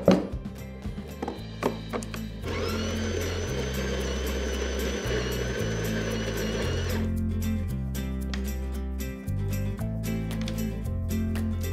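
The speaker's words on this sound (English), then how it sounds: "We will have to make a few more grinds until we get the desired fineness." A Delonghi La Specialista EC 9335 M espresso machine grinds coffee beans with its built-in grinder: a loud, steady mechanical whir for several seconds, over a background of rhythmic thumping music, then stopping.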